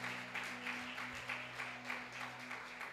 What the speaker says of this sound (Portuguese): Levante as suas mãos e dê um forte aplauso à presença maravilhosa do Espírito